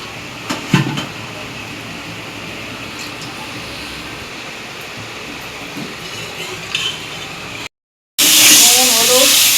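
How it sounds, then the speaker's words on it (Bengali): Meat dropped into a kadai of spices fried until red, sizzling in an Indian home kitchen: a steady hiss runs throughout with small clinks, then cuts out briefly before a louder, brighter sizzle returns. "মশলাগুলো লাল লাল করে ভাজার পর মাংসগুলো কড়াতে দিয়ে দিচ্ছেন।"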